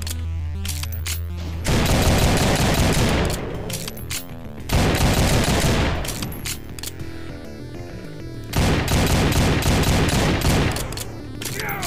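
Shotgun blasts in the video game High Noon Drifter, three loud bursts of rapid booming fire separated by short pauses, up close and dominant.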